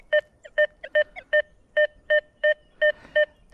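A metal detector gives a steady series of short electronic beeps at a fixed two-note pitch over a buried button, evenly spaced, about ten pulses in a row, clear and close with no voices.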